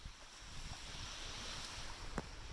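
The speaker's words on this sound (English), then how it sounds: "We're here at the beach. So this is a very wavy and windy environment." Surf and wind on an exposed beach with scrubby plants, a steady broadband wash of waves and gusting wind noise on the microphone, fairly even throughout with a brief louder gust near the end.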